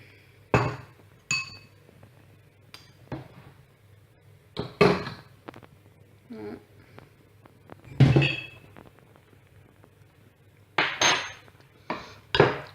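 A spoon clinks against a bowl as porridge with figs and fruit is stirred, scattered bright taps and knocks spread out over a quiet background, with no voices.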